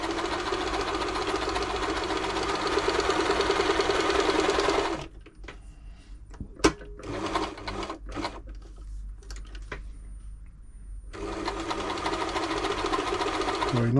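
New Home L 312 sewing machine running a zigzag stitch at close range, a steady loud whir at the start, a quieter stretch with clicks and taps, then running again at the end.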